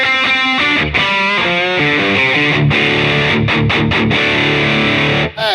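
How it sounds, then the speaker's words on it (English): Heavily distorted electric guitar riffing through a Boss Katana Artist MkII amp, a chunky big rock tone played as loud, continuous chord riffs with brief stops and restarts, no talking. "It's chunky. It's a big rock tone, but it's for that kind of riffing."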